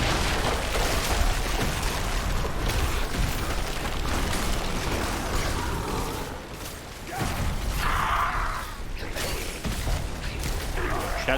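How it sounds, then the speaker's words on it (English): Diablo 4 combat with a Sorcerer, loud crashing and booming explosion bursts over dense continuous battle noise, with a brief dip near the seventh second before the blasts resume. "Some kind of explosion,"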